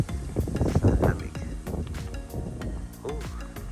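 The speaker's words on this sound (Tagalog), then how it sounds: "Mahangin ah." Gusty outdoor wind buffeting the microphone on a cold mountain descent by bike, loud rumbling bursts with voices talking over it.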